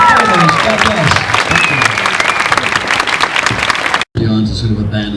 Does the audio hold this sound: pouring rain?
no